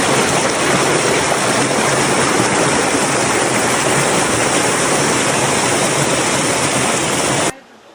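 A waterfall in a forest roars as a loud, steady, unbroken rush of water, with rain falling over it, continuing evenly until it cuts off abruptly near the end.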